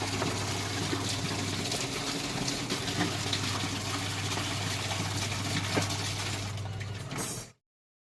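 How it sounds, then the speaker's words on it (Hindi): Steady running water pours and splashes while a balcony grill is washed down, a continuous close gush at even loudness for about seven seconds before cutting off abruptly. "क्योंकि मुझे ये धोना था ग्रिल पानी से"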